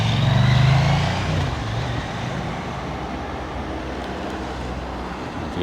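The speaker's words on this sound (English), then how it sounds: "If you can hear me over the actual traffic, cars going past." Road traffic crossing a bridge near Lechlade, with a loud vehicle rumbling close by at first, then a steady wash of cars going past.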